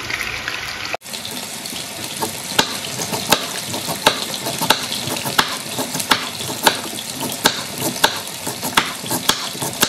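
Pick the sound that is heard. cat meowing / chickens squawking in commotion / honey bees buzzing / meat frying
meat frying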